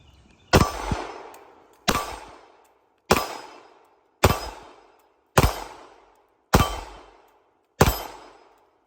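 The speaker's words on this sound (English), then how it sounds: "Brad's gonna shoot the SIG and we're gonna get his thoughts on it" Seven evenly spaced gunshots from a SIG P320 pistol, each a sharp loud crack with a short decaying tail, fired alone at a steady slow pace.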